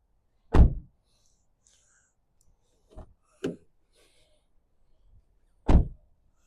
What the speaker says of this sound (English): I think that's a very, very nice thick thump when you close the door.